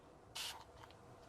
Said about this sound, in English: I wanted less of a spritz.